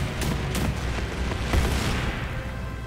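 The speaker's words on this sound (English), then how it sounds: "let's try the Frankie Cannon. Frankie Cannon" The Frankie Cannon attack in the One Piece Odyssey video game fires as a series of heavy booming blasts, several sharp impacts in quick succession followed by a rumbling tail that fades.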